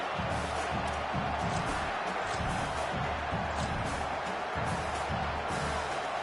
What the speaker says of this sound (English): this home crowd getting involved right from the start